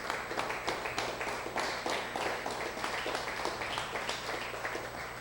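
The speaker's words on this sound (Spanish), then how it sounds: "Démosle un aplauso al Eterno" A church congregation claps together in a steady, rapid patter that fills the room, sustained and moderately loud throughout with no voices over it.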